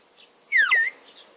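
A small horse-shaped clay water whistle filled with water, blown once for a single warbling, bird-like trill lasting under half a second, close and clear against a quiet background.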